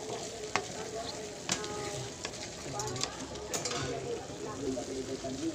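Hotdogs fry in a small amount of cooking oil with a steady, close crackling sizzle and occasional stirring clatter, while a person talks over it.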